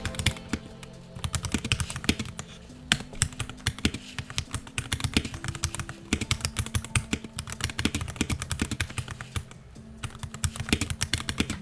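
Typing on a Qeeke KR081 mechanical keyboard with Gateron switches produces rapid, steady clacks at close range, with a few brief faint tones beneath and no speech.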